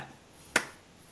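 A single sharp clap rings out before a character's dramatic entrance in a warehouse scene of a vertical drama, crisp and isolated against a quiet background.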